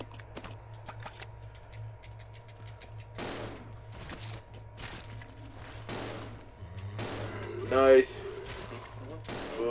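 Gunfire in Resident Evil Zero HD Remastered, a string of separate sharp shots spread through the clip with one louder burst near the end, over background game music, with a person talking.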